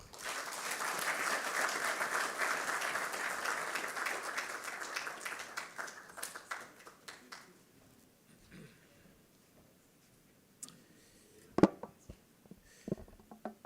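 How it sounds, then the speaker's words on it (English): An audience at KCB Group's full-year 2024 financial results presentation applauds for Lawrence, a full round of clapping that swells for about six seconds, then thins and dies away, leaving quiet broken by a few scattered knocks. "Let's give Lawrence a round of applause"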